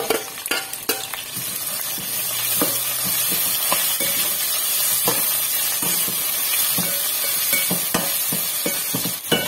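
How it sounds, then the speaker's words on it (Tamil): Plain ginger frying in hot oil for tomato rice, a steady bright sizzle throughout with scattered sharp pops and occasional scraping taps of a stirring spoon against the pan, no talk. "இஞ்சி எண்ணெயிலே வேகுது."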